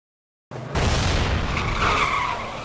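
A car speeds off with a loud, sustained tire skid and roaring engine as an armed team retreats under attack; the screeching noise bursts in suddenly and holds for about two seconds with no voices.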